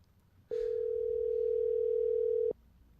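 A single long ringback tone sounds on an outgoing phone call, a steady pure beep lasting about two seconds in an otherwise quiet line.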